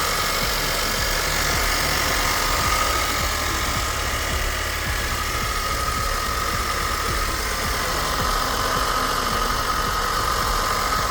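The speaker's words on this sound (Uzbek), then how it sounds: "Motoriga vaqti gap yo'q deyapti akalar." A 1998 Karavan-type car idles with a steady, loud mid-pitched engine hum and constant vibration, running alone with no talk over it.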